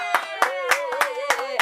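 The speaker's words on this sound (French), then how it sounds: "il y a même des vrais applaudissements" Studio audience applause at a Quebec talk show taping, loud bursts of clapping coming in uneven waves of several quick claps, close and without voices.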